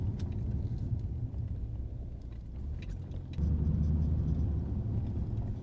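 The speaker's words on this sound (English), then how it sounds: "So this is VAREX closed, and as you'll hear, you can't hear anything in the car." Inside a car fitted with a VAREX exhaust muffler set to closed, only a low, muted engine and road rumble is heard, steady and quiet, briefly swelling a little partway through.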